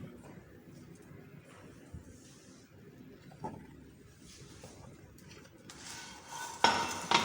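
A knife slicing through crispy naan breakfast pizza topped with cheese, giving soft crackly scraping and a few light clinks on a plate, quiet at first and growing louder with sharper crunches near the end.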